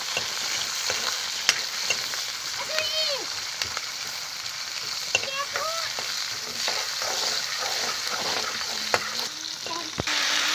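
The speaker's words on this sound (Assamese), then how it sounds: "পিঁয়াজ ঢালি এতিয়া লাৰি আছে বৰ্তমান" Onions fry in a pan with a steady close sizzle while a utensil stirs and scrapes through them, bringing occasional clicks and brief bubbling pops.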